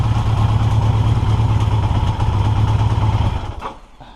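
A 1982 Yamaha XJ650 motorcycle engine idles steadily up close with an even low throb, then cuts out and fades near the end.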